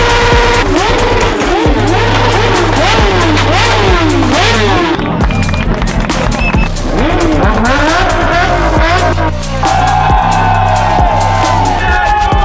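A McLaren Senna supercar's engine revs loudly amid a busy festival crowd, with repeated rising and falling roars and steady engine rumble throughout, mixed with crowd noise.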